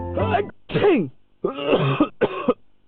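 A few rough, throaty coughs and throat-clearing bursts from someone with flu, close and fairly loud, separated by short silences.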